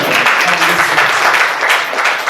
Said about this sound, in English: I think these people deserve a much bigger clap.